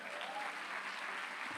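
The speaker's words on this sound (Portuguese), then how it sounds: "pode aplaudir o Senhor Jesus aí." A church congregation applauds in a brief burst, a dense wash of clapping hands that holds steady and loud for a moment, with faint murmurs under it.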